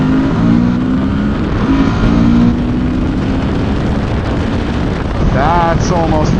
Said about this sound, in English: That's almost full throttle there. Pure induction noise.